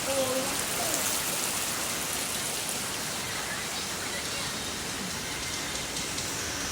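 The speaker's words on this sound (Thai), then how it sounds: "ฝนตกครับนอนฟังเสียงฝน" Steady rain falls and patters on surfaces, a soft, even hiss that continues throughout without a break.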